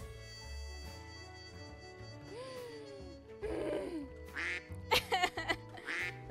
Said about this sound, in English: Some quacks for the road.